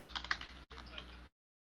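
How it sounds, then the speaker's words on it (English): Soft, faint typing on a computer keyboard, a quick run of key clicks that breaks off briefly, resumes, and then stops. "Oh, you can hear me typing?"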